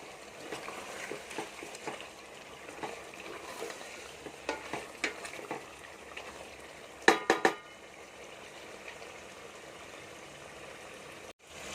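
Masala with coriander powder and Kashmiri red chilli sizzling gently in a pot for aloo gosht, stirred with soft scraping strokes and a few sharp utensil clinks near the end.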